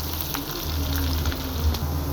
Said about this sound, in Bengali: এই তো পেঁয়াজ কুচিটাকে ভাজা হয়ে গেছে